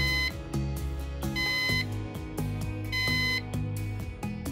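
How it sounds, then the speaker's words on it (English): A Synology NAS device gives short electronic reset beeps, several bright tones in quick sets with brief gaps between them, clear and close. "hold again for another 4 seconds until you hear a further 3 beeps"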